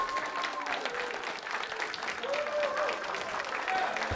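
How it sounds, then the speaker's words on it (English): Sustained audience applause fills a school hall after a play's closing scene, steady dense clapping with a faint crowd murmur and a few high whistle-like tones running under it. "The clapping got louder."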